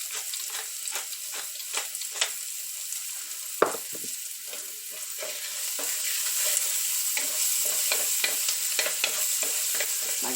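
Vegetables sautéing in a pot for potato soup, with a continuous sizzle and repeated spoon scrapes and clinks, one sharper knock near the middle, the frying growing fuller toward the end.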